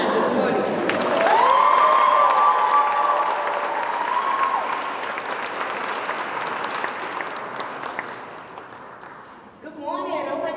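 A rally crowd at the Eleventh Annual Caring Force Rally applauds and cheers as a speaker comes to the podium. The clapping swells quickly, holds steady, tapers near the end, and voices come through toward the close.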